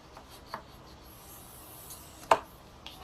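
A bone folder scores paper on a WRMK envelope punch board, giving faint, soft rubbing strokes with a couple of short, sharper scrapes over quiet background.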